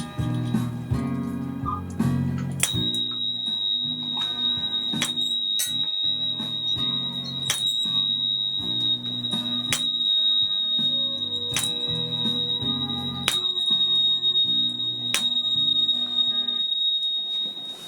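A steady, pure high A tone from a tuning fork holds throughout, sounding over a busy melodic backing of plucked or tuned notes with regular sharp ticks.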